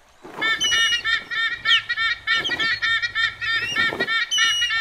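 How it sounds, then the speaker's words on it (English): Large cartoon birds trade repeated harsh, honking calls in close, loud bursts that overlap and stutter over a faint low hum. "Hey, there's a large bird up there."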